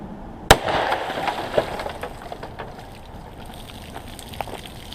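A single sharp, loud gunshot from a Ruger SP101 revolver with a 3-inch barrel firing a .327 Federal Magnum hand-loaded round cracks nearby, followed by a short ringing tail and faint outdoor background noise.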